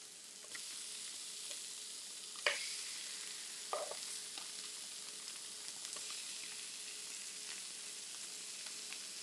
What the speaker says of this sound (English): this is what we get from pan frying in butter